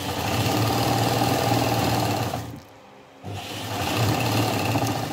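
A sewing machine stitching clothes at home, running with a loud, steady mechanical whir and rapid needle chatter, pausing briefly near the middle before resuming, with no talking.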